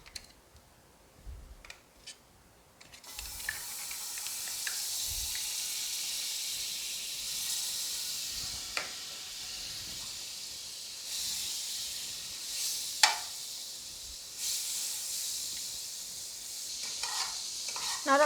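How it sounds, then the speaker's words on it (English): Butter melts and sizzles in a hot pot on a stove over high heat, a steady bright hiss that begins after a few quiet clinks and scrapes, with occasional utensil stirs and taps close by and no speech. "I'm going to add my butter to melt."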